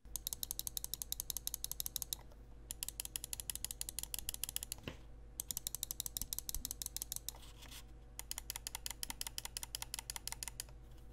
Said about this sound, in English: The left and right buttons have a medium weight to them and have a pretty satisfying click.